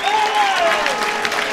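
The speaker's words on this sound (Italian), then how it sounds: "c'è anche spazio per gli applausi per Belcalcio" Crowd applause at an amateur football match between Roccella and Gallicocatona, a dense patter of clapping from a modest crowd heard under a commentator's voice.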